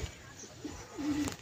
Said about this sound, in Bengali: একটা পায়রা এখানে।